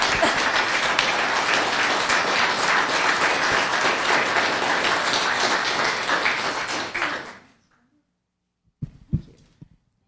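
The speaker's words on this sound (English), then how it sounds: "Round of applause." Audience applause at a town council meeting, a sustained, even round of clapping for about seven seconds that stops abruptly, followed by a few faint taps and noises.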